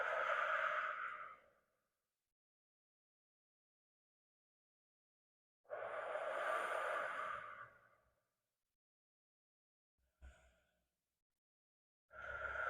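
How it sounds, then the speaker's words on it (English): Slow, deep breaths during a yoga sequence: three long audible exhales, each lasting about two seconds and separated by long silences, followed by a short soft breath near the end. "Let's take one more breath."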